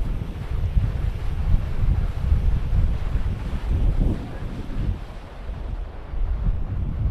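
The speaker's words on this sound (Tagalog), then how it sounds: "Grabe yung alon, no? Pwedeng mag-surf dyan." Strong ocean surf rolls in a continuous loud roar, mixed with heavy wind buffeting the microphone along a seaside in Roxas City.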